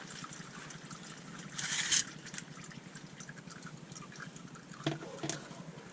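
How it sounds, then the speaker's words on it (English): Used engine oil trickles from the oil filter of a C5 Corvette into a container, a faint, steady dribble with a few soft clicks and drips. "I'd say the oil filter is about done draining"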